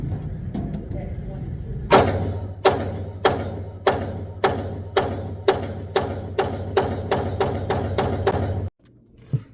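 Ruger RXM pistol firing a rapid string of about fourteen loud, close shots at a steady, quick rhythm, each crack trailed by a short echo, with a low hum beneath that cuts off after the final shot.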